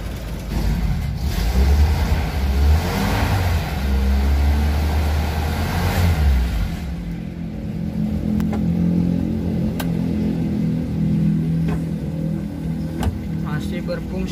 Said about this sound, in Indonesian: Mesin halus banget.